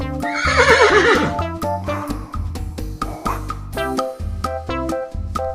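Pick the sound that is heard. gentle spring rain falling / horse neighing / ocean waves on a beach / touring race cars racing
horse neighing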